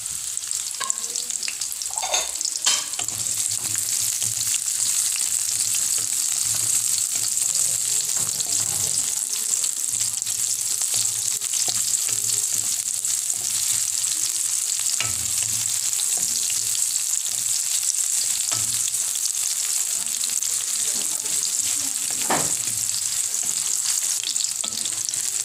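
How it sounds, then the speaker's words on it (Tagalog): Onion sautés in a pan for pinakbet, a steady, close hiss of frying with occasional stirring clatters and scrapes throughout, no voices. "Isinod na natin ang ating sibuyas."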